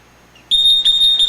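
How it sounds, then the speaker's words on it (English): A Kremlin Cyclomix paint mixer sounds its alarm: a loud, piercing electronic tone that starts abruptly and holds steady with slight pulsing interruptions, close and alone. "now it's going to go into an alarm situation"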